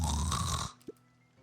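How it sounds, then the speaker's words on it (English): A video game character snores in one loud, rough, rasping breath that cuts off abruptly, followed by a small soft blip and near quiet. "Sinclair continued snoring and lifted one eyelid just enough to see who it was"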